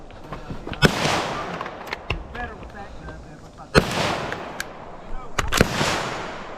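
Carbine shots ring out at a shooting range with targets, several sharp loud cracks spaced a second or more apart, while people talk between the shots.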